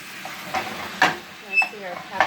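A spoon breaks up and mixes stuffed pepper filling seasoned with salt and pepper in a pan, making four or five distinct scraping strokes over a faint background sizzle.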